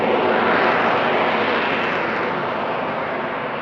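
A Harrier jump jet flying at a seaside airshow in Sunderland, a loud broad roaring jet engine sustained throughout and slowly easing off toward the end, with no voices over it.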